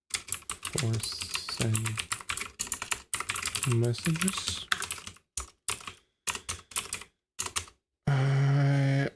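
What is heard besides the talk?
typing on a computer keyboard with sticky keys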